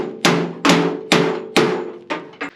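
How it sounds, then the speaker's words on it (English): Six sharp hammer blows ring off the sheet-metal door of a 1967 Camaro as it is beaten flat, struck at a steady, unhurried pace, close and loud, each hit decaying briefly before the next. "couple minutes of hammering on this thing"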